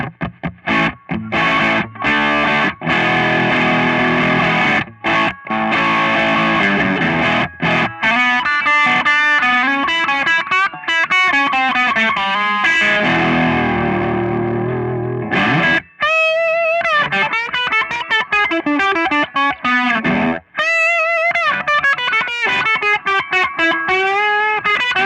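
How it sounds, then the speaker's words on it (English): A Novo Serus J electric guitar played through overdrive on the bridge pickup with the tone fully up, giving loud, continuous distorted chords and riffs with sustained notes and a few short breaks. "I'm going to turn on the overdrive so you can hear that. Bridge pickup with the tone all the way."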